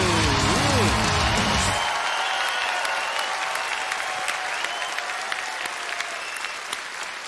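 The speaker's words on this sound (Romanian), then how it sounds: "Doamnelor și domnilor, haideți cu un rând puternic de aplauze" A TV show studio audience bursts into loud applause and cheering. A host's voice rings out over it at first, then sustained clapping carries on and slowly fades.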